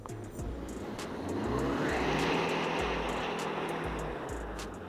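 A BMW 520d xDrive diesel is floored from a standstill on ice, its engine swelling to a sustained rev that holds and then eases slightly, recorded from nearby at moderate loudness.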